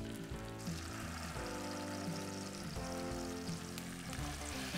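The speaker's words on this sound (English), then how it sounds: "I can hear the sizzle." A fish fillet laid skin-side down in a hot pan of sunflower oil gives off a steady, continuous sizzle beneath prominent background music.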